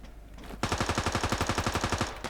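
Rapid automatic gunfire in a Thai-language shooter video game, a burst of roughly twenty evenly spaced loud shots starting abruptly after a quiet moment and running steadily to the end without talk.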